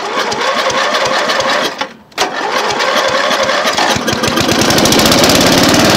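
A lawnmower engine runs loud and steady, its rapid chugging broken by a brief dip before it picks back up and keeps going strong.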